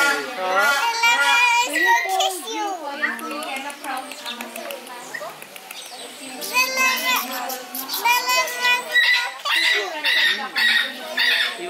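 Small birds squawk and chirp repeatedly at a family petting farm near Manila, mixed with children's voices and adult talk throughout, fairly close and busy.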